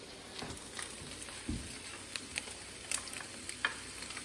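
Rice being stirred into a sizzling pan, with a steady frying hiss throughout and soft scraping stir strokes that rise now and then, close and moderately loud.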